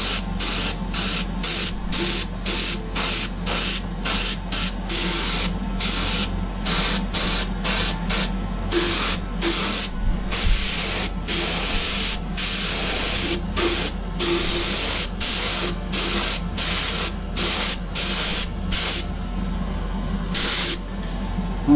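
An airbrush sprays a base coat onto Greek-style vases in rapid, close bursts of hissing air, each spurt separated by brief pauses over a faint background hum.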